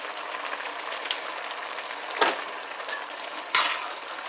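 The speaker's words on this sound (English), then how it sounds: "We're going to give that a good mix" Veggie cook-up rice with cook-up seasoning stirred in a pot, soft scraping strokes with two sharp spoon clacks over a constant light sizzle, close and moderately quiet with no talking.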